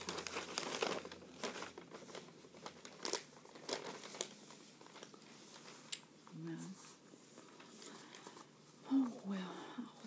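Newspaper pages crinkle and rustle in scattered soft bursts as someone reads at a quiet morning table, with occasional quiet talk.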